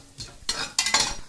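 Cinnamon, cloves and bay leaf are stirred briefly in hot oil for biryani, giving a few close scraping strokes of a utensil against the pan over a faint sizzle.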